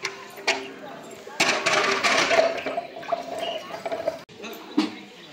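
Water poured from a tap or vessel into a jug at a Hanuman temple courtyard in Nepal, a splashing, gurgling stream that swells in the middle and fades out, with people talking throughout.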